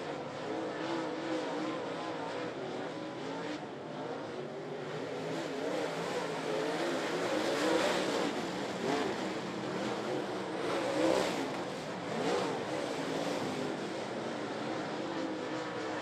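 Modified race car engines droning around a dirt race track during a heat race, a steady loud roar with swells as cars pass, continuous throughout without talk.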